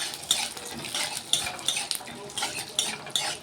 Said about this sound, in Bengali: এটা আমি অল্প একটু তেল দিয়ে একটু ভেজে নিচ্ছি।